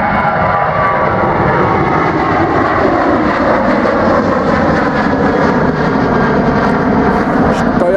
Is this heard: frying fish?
no